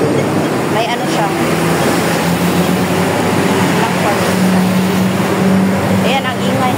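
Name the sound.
highway traffic noise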